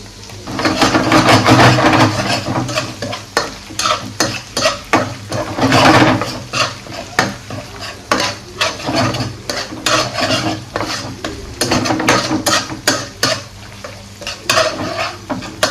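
Green chilies and ginger-garlic paste sizzle in a pan for paneer ghotala while a spoon stirs and scrapes repeatedly against the metal, loud and close, with rhythmic clinks over a steady frying hiss.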